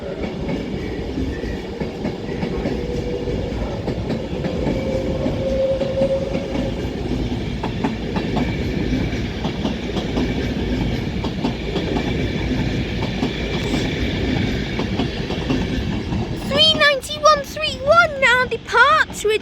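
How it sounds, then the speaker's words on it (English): An Avanti West Coast train departs Preston station on the West Coast Main Line, rumbling and clattering steadily over the rails nearby. A brief wavering squeal or tone cuts in near the end. "Now departs with the 1400 Avanti West Coast service to London Euston"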